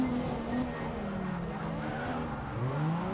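A heavy drift car in a racing game: a continuous engine drone with rising and falling pitch and tire squeal, loud and steady throughout.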